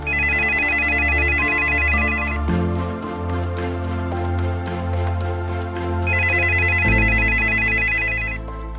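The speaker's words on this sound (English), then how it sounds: "But Jorgensen did answer the phone." A telephone rings on a call, a loud electronic ring pattern that repeats steadily in alternating warbling bursts and pauses, with no voices.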